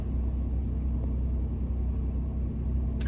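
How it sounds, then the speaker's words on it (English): A car gives off a strange low moaning rumble, steady and droning throughout, with no voices over it. "Why did my car just moan?"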